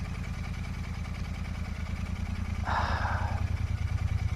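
A 2024 Royal Enfield Shotgun 650 motorcycle runs on the road with a steady, close, low engine rumble and exhaust pulse, joined by a brief higher whirring swell partway through.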